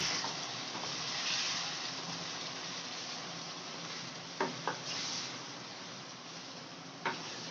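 Chopped onion sizzles steadily in hot oil with cumin and garlic, a broad continuous frying hiss broken by a few sharp spoon scrapes and taps as it is stirred in the pan.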